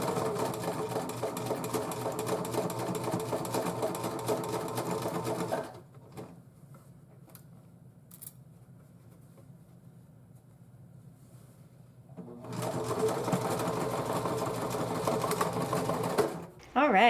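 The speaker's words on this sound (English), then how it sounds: "let's get back to sewing" Sewing machine stitching a dress made from a thrifted tablecloth, running loud and steady in two long bursts with a quieter pause between them.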